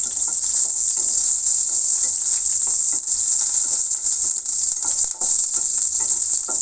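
Onions sizzle and crackle steadily in a hot pan, a dense continuous frying hiss close by with small pops throughout and no talking.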